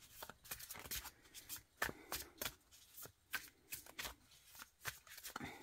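Oracle cards are shuffled by hand in a quick, steady run of soft riffling slaps and flicks, close and fairly quiet, with no voice over them.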